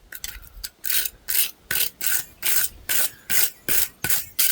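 A file rasps across a forged metal handle at the anvil in about ten steady, even strokes, each a bright scraping burst with short pauses between, close and clear with no talking.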